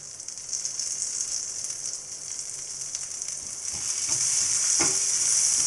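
Garlic and fresh basil fry in a hot pan with a steady, close hiss that swells louder toward the end, a few small pops and crackles scattered through it.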